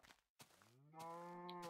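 A cow moos in a farming exploration video game, a long, drawn-out harmonic call that swells and holds steady, heard close and alone after a brief earlier noise.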